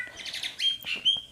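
Bright, high bird chirps and short whistled tweets, a few quick calls close by with faint background noise.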